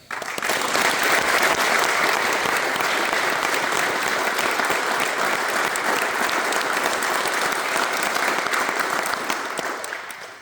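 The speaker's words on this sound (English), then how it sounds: "Please, a warm round of applause for our commanders." An audience applauds the commanders at a 53rd Space Operations Squadron Detachment 3 change of command ceremony, a dense, steady round of clapping lasting about ten seconds before tapering off.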